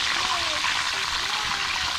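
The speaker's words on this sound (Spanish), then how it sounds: "Ahí que se vaya friendo." Broad beans frying in hot oil in a home kitchen, a steady close sizzle and crackle that continues without pause, with a faint voice murmuring underneath.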